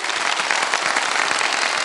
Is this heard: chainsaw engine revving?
no